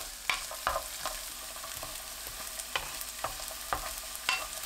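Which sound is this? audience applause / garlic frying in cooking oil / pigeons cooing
garlic frying in cooking oil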